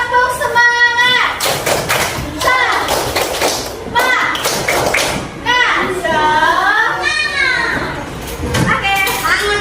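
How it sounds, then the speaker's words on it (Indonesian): Schoolchildren in a classroom perform the 'tepuk semangat' clapping routine, rhythmic claps and thumps mixed with loud, continuous chanting voices close by. "Tepuk semangat, kita tepuk semangat dulu."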